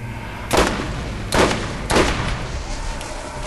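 A sniper rifle fires explosive rounds in Borderlands: three heavy, booming shots spaced about a second apart, each with a short echoing tail over a low background drone.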